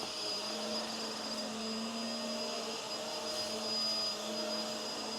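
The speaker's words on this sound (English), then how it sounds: "This is a pretty good vacuum." A Hoover Windtunnel Tangle Guard vacuum cleaner runs at a steady, close drone with a thin high whine, uninterrupted for several seconds with no voices.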